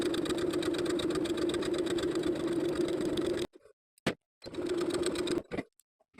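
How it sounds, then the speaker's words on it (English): A sewing machine runs basting stitches across a vintage drop-waist dress skirt piece, a loud steady motor hum with rapid needle chatter, stopping abruptly, a brief click, then another run cut off sharply. "I'm going to sew basting stitches from one side seam to the other"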